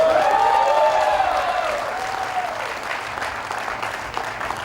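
Graduating students at a university convocation cheer and applaud, a loud crowd roar with whoops and shouts over dense clapping that fades slightly toward the end.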